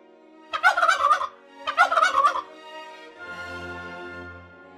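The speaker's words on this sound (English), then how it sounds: "The turkey says gobble-gobble." A turkey gobbles twice in a row, two loud rapid bursts, followed by a quieter low rumbling sound.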